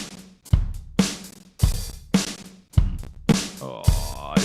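A stacked drum track of layered kick, snare and cymbal hits playing in a steady groove, with punchy transients and a washy cymbal swell near the end; loud, close and without voices.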